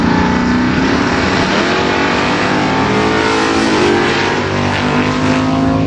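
Two big-block Chevy S10 drag trucks, one a 1982 model with a 355 cubic inch engine, launching side by side at a drag strip: loud, sustained roaring engines with rising, overlapping harmonic tones, close and continuous.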